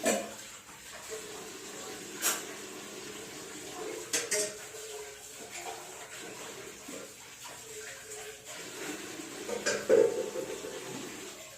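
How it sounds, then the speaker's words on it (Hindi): Cleaned dishes and utensils are set away on a wall-mounted rack in a home kitchen, with scattered clinks and clatters of metal and crockery over a faint watery background, growing busier toward the end. "तो बस यहाँ पे मैं रख करूँगी अपने जितने भी बर्तन हैं उनको अच्छे से क्लीन"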